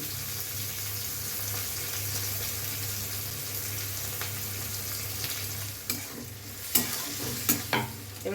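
Chopped onions sizzle and fry steadily in a hot pan for a red potato vegetable curry with asafoetida, a constant close hiss with a low hum beneath, and a few sharp stirring knocks and scrapes near the end.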